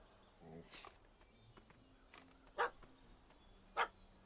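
In The Witcher 3 video game, a dog barks at a cat up a tree, giving two sharp, fairly close barks over faint insect chirping and quiet ambient background.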